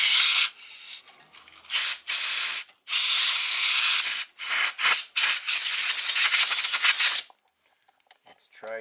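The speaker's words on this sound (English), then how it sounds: "Blow all this nice brake fluid in there." Compressed air blows old brake fluid out of a rusty brake on a 1967 Triumph GT6, giving loud spraying hiss bursts that start and stop repeatedly before trailing off into near silence.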